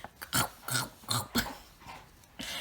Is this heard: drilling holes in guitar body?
no